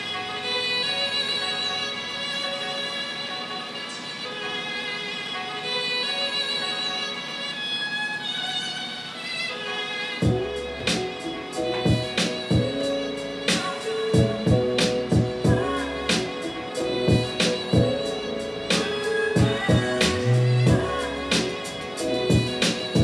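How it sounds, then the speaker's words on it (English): A sustained string section with a vintage, record-like tone plays alone, then percussive hits and a rhythmic beat come in around the midway point. "And the string sample that I use sounds like this."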